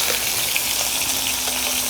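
Water poured into a cooking pan with marinara and simmering meatballs, a steady hissing, sizzling splash running continuously at close range.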